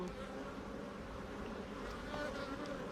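Honeybees hum steadily around an open hive during a beginner beekeeping lesson, a dense, even drone close to the ear that holds without a break throughout.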